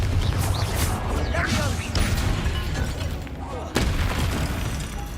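Fiery spell blasts from the Hogwarts Legacy video game, a sustained booming roar with crackling bursts around two seconds and again near four seconds, loud and dense throughout with no talk over it.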